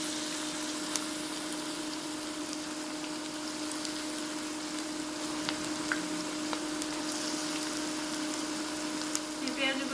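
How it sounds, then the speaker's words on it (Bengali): Onions coated in lentil batter fry in oil with a steady, moderate crackle and hiss. A few small pops sound over a constant low hum and continue evenly throughout. "পেঁয়াজগুলো ভাজার সময় চুলার আঁচটা মিডিয়াম হাইতে রাখবেন, তাহলে পেঁয়াজটা মচমচে হয়।"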